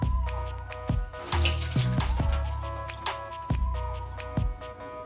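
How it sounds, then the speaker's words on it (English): Tap water running steadily into a sink while dried shrimp are rinsed for pogi kimchi, a close, continuous splashing stream with small clinks and knocks from handling in a home kitchen. "I'm gonna go ahead and rehydrate mine to rinse them a bit and then chop them"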